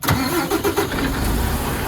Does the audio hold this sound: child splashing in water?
no